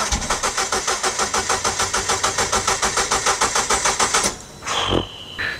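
Peugeot 208 GTI with a THP engine, left standing three years under a tree, cranks in a steady rapid rhythm for about four seconds, then cuts out and is followed by a brief rising mechanical whine, loud and close with no talk.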